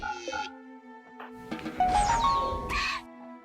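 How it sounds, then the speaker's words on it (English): A slain stag in the RimWorld video game lets out a short, chirpy death cry, a brief bleating squeal heard close and clear among soft game effects. "It's death noise. Like a little chirp."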